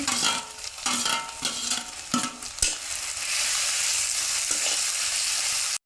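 Ginger garlic paste frying in a pan for a mutton dish, with a loud close sizzle, intermittent stirring knocks early on, then an even crackling hiss that cuts off at the end.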